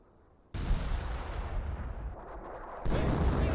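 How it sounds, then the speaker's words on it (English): Company of Heroes battle gunfire and artillery: a sudden loud onset of dense, crackling fire and rumbling blasts that holds, fades slightly, then surges again in a second heavy burst. "I hear M2 firing away."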